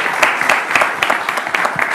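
Studio audience on an Italian football talk show applauding, a close, lively patter of many hands with sharper individual claps popping out of a steady, brisk wash.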